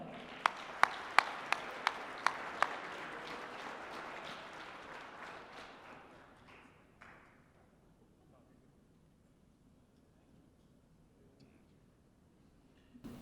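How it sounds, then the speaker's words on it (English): Applause at a district Teacher of the Year gala for the superintendent of schools, a crowd clapping in a hall with a few sharp louder claps, fading out over several seconds to quiet. "please give a big round of applause to our Superintendent of Schools"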